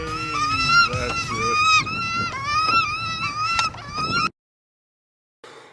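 Shrill, harmonic bird squawks from the attack in the film Birdemic come in a rapid, overlapping run for about four seconds, then cut off into silence before a brief faint return.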